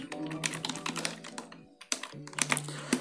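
Rapid, steady keystrokes on a computer keyboard while C code for a for-loop pattern program is typed, the clicks coming close and crisp in quick bursts with one short pause midway.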